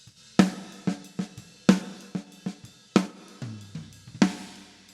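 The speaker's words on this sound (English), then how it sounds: "The plate reverb sounds like this." Snare drum hits with a long, bright plate reverb tail, played in an uneven rhythm, some notes joined by a low tom-like tone, no talking.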